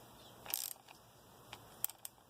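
A cylinder ridge reamer cranked by hand inside an engine cylinder gives a few quiet metallic ratcheting clicks and scrapes, one short burst followed by scattered faint ticks, with no talking.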